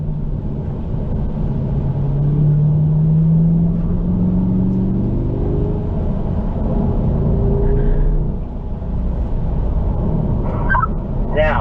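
A C8 Corvette roars loudly from inside the cabin as it accelerates through the gears on a race track at Ron Fellows Performance Driving Academy, its engine note rising in pitch with a brief dip at a shift.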